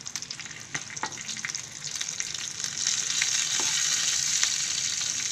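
Stuffed chillies roasting in a pan, a steady oily sizzle and crackle that grows louder and denser partway through, with a few sharp pops and stirring clinks, no voices.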